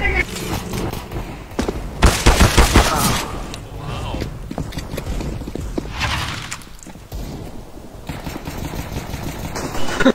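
Rifle gunfire in a shooter game, a dense volley of close, loud shots and impacts peaking early and continuing in scattered bursts, with a player shouting over the action.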